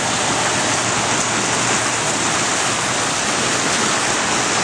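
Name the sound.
Niagara Falls waterfall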